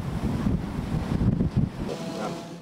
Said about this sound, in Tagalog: Dama rin ang lakas ng ulan at hangin sa Pasay City.